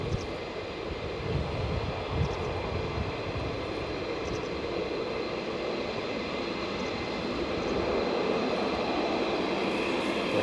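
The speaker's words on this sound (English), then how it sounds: "It's the F-15s today" F-15 Strike Eagle fighter jet engine at RAF Lakenheath, a distant, steady broadband roar holding constant and rising slightly toward the end, with no voices.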